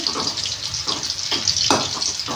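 Ridge gourd peels fry in a pan with a continuous bright sizzle and crackle, broken by a few louder bursts and spatters that suggest stirring.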